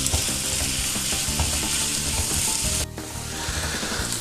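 Sliced onion and potato sizzle and fry in a pan for an omelette, with steady loud crackling and repeated scraping, ratcheting stirs throughout; a brief dip near the end, no talking.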